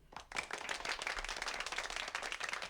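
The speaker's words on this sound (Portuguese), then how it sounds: "E isso merece uma salva de palmas, né?" A round of applause for a weekly talk series on labor law, a brief burst of many hands clapping, dense and even, fairly faint and with no talking over it.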